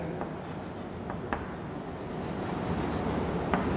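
Handwriting during a Class 9 geometry lesson on quadrilaterals: a steady, close scratching and rubbing of pen on a writing surface, broken by a few sharp ticks and taps, with no voices.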